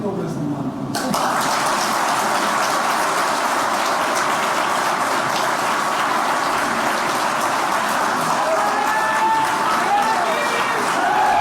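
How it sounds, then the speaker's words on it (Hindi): An audience at a talk on Indian culture bursts into long, sustained applause, a loud, dense clatter of many hands that carries on evenly for about ten seconds. "सभी लोग अपनी तालियों से अनुमति देंगे, सहमति देंगे, तो मैं सम्मान करूंगा।"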